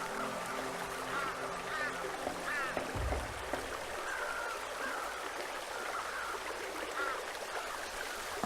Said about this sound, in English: A swift, cold, pebbly, babbling brook.